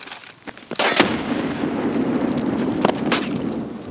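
A grenade goes off in a first-person shooter game: a few sharp cracks and thumps land early, then a sustained rumbling blast and reverberating wash follow, with another pair of sharp reports near the end.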